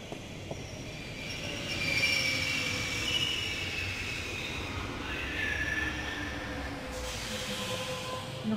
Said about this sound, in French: Voilà, c'est parti pour le métro.